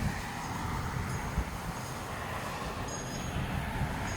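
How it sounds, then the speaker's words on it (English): Steady broadband road traffic rumble from passing vehicles outdoors near a garden, continuous and moderately loud throughout with no talking. "sorry for the traffic noises"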